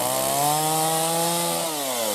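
A saw cuts firewood in a village, giving a continuous rasping drone with a steady pitch that shifts slightly near the end. It is loud and close, with no talking.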